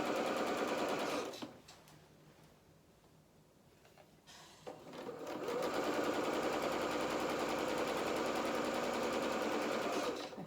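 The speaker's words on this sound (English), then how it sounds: "And then we're just going to sew along this edge." A sewing machine stitches a dress seam in a steady, loud whirring run, pauses for about three seconds, then starts again and keeps running continuously to the end, with no talking.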